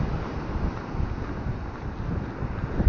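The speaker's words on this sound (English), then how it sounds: "Wind's picking up again a little bit, and there's a good surf." Blustery wind and breaking surf on a Suffolk beach at Pakefield, a steady broadband roar with buffeting gusts across the microphone, continuous and fairly loud with no voices.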